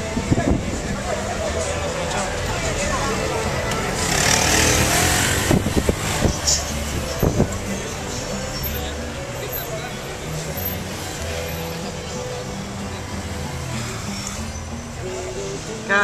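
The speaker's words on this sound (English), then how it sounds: "A little bit of Quito from a taxi." Riding in a Toyota taxi through Quito traffic, from Old Town to New Town: steady engine and road rumble with passing vehicles, a brief louder surge partway, and music and voices mixed in.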